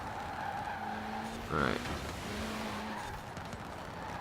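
Tires squeal in a brief, fairly faint burst as a light car drifts through a corner in Forza Horizon 4, under a steady engine drone, with a short spoken word nearby.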